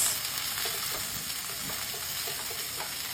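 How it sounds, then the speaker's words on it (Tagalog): Pakbet vegetables frying in a pan as they are stirred, a continuous close sizzle with soft scraping and shuffling of the mix, no voices. "halu-haluin hanggang sa mag-brown."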